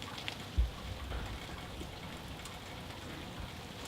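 Steady rain falls outdoors in a continuous soft hiss, with a brief low thump near the start and no voices.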